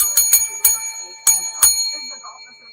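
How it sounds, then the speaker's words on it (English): A bright metallic bell struck several times in quick, uneven bursts, each ring leaving a clear sustained tone, loud and close with nothing else around it. "Hit the bell."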